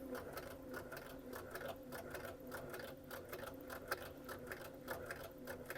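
A sewing machine stitches straight along fabric with a fast, steady mechanical clatter, fairly quiet and continuous without pause.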